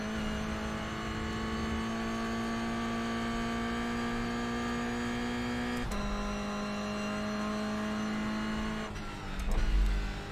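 A Toyota GR Cup race car in iRacing at Road America holds a steady, loud engine drone with strong harmonic whine, shifting gear abruptly midway and again near the end, with a brief tire scrub at the close and no talking.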